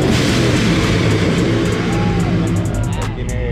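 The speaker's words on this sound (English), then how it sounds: "Look, this is how you know Ed starts revving his engine." A Procharged Mustang GT engine rumbles loud and close with a rising rev, the low broadband roar sitting under some light speech.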